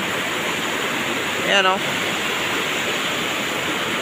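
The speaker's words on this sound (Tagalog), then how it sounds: "parang lalong lumalakas yung ilog" A steady, loud rush of a swollen, rising river fills the whole clip, with a brief spoken exclamation partway through.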